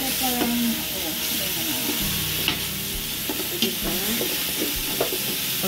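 Pork fat rendering and browning in a pot, loud continuous sizzle and frying crackle with occasional stirring scrapes and knocks, close up and steady throughout.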